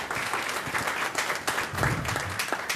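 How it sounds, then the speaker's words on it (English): A city council meeting audience in Portsmouth, Virginia claps steadily through the whole stretch, a dense, even patter of many hands filling the room with no voices on top. "another round of applause"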